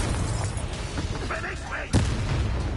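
A Confringo fire spell goes off in Hogwarts Legacy, a sharp burst near the two-second mark over a busy game soundscape with a voice talking throughout.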